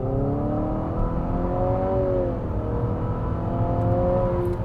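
A 2022 Infiniti QX55 engine revs with its CVT in eco mode, heard from inside the cabin: a steady droning whir that climbs and holds, then eases and climbs again, loud and continuous with no talk.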